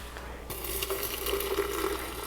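Hot water pouring steadily into a vessel, a broad splashing rush that begins abruptly and keeps flowing evenly.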